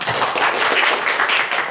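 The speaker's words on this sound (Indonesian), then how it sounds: "Tepuk tangan" A classroom of students claps together after a group presentation, producing a loud, close, continuous crackle of many hands with no pauses and no talking.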